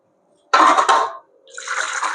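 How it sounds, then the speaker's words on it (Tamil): Water poured from a jug into a pot of rice flour batter for crispy rice vathal, two close, loud splashing pours separated by a brief pause. "இந்த ஒரு ஜக்கு தண்ணியை இதுல ஊற்றி இந்த மாவு எல்லாம் ஒண்ணா மிக்ஸ் பண்ணிக்கலாம்."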